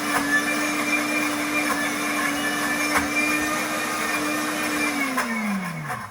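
A heated cooking blender whirs steadily as it grinds all-natural peanut butter, a loud continuous motor drone that holds its pitch, then winds down near the end.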